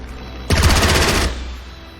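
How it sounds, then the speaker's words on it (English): Fighter plane strafing a tank with its guns in the strategy game Strategic Mind: a loud rapid burst of automatic gunfire lasting under a second, then fading into a low rumble. "If I use nitro here, Strafing. I can strafe this tank as well."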